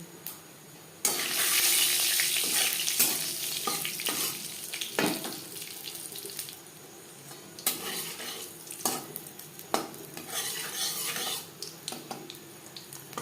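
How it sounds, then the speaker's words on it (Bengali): Panch phoron whole spices crackle and sizzle in hot oil in a wok, loud bursts of frying with stirring and utensil clatter, no talk. "কড়াইতে আবারও তেল দিয়েছি ফোড়নে দিয়ে দিলাম পাঁচ ফোড়ন"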